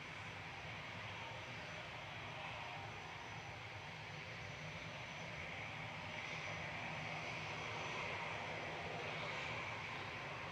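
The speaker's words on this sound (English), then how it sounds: "This is Jet 2 off to Alicante G Sun P, A321 Neo, flight 881" A Jet2 Airbus A321neo airliner departs Manchester Airport on a flight to Alicante, a steady, broad jet engine roar heard from a distance, holding at an even level without voices.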